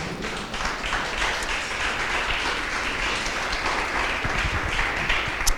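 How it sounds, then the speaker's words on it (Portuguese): A church congregation applauding from their seats during a service: dense, sustained clapping from many people, loud and steady throughout, with no pause and no clear speech. "dê um aplauso ao Senhor no seu lugar"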